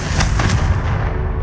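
Confringo blasting spell exploding in Hogwarts Legacy, a loud, close booming blast with a couple of rapid impacts, then a rumbling decay.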